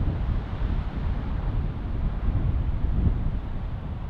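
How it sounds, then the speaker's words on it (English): Strong, steady wind roars across an icy mountain summit during a hike, buffeting the microphone in a loud, dense rumble with no break throughout. "it's windy as heck up here"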